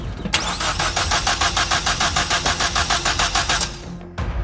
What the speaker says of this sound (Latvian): Sporta auto atsakās mosties.